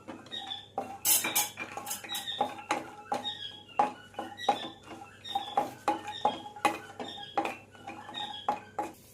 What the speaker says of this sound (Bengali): এবার আমি কাজু, বাদাম আর কিশমিশটা আমি দিয়ে হালকা ভেজে নেব